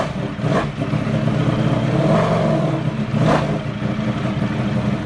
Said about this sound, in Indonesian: Mesinnya mengadopsi teknologi Desmodromic dengan konfigurasi pengapian Twin Pulse atau Screamer yang menghasilkan suara lengkingan luar biasa bising seperti mesin helikopter